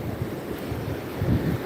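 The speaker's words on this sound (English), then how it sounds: "Ooh, it's a little windy." Gusty wind buffeting the microphone on Pensacola Beach on a cool morning, a continuous low rumbling roar with surf washing faintly in the background.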